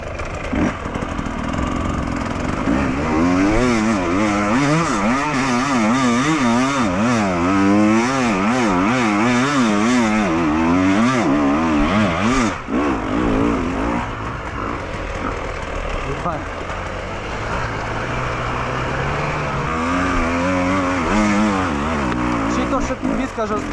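A Fantic motorcycle engine revs hard and loud up close while shifting through gears, pitch rising and falling in repeated surges, with wind noise and occasional talking over it.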